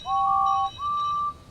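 Engine whistles tooting, two bright sustained blasts in quick succession, clear and close.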